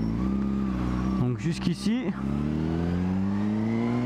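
A Honda CBR motorcycle engine hums steadily while riding, close and continuous, and someone briefly speaks over it in the middle.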